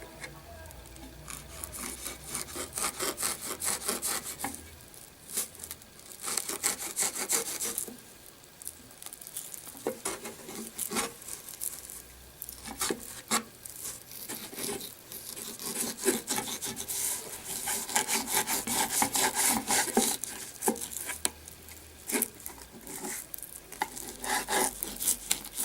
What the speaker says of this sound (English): See if I can get that skin off like Buddy showed